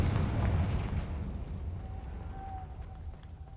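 A Confringo explosive spell blasts in the Hogwarts Legacy video game, a loud booming burst at the start that rolls off into a lingering low rumble with a faint tonal ring.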